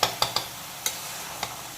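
Potatoes, shrimp and ridge gourd being stirred together in a pan with pumpkin greens, with a few distinct scrapes and clacks of a spoon against the pan over a faint sizzle, no talking.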